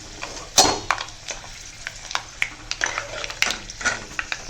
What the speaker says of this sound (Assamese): তেলটো এনেকুৱাকৈ গৰম হ'ব লাগিব, এতিয়া পাঁচফোৰণটো ফুটিব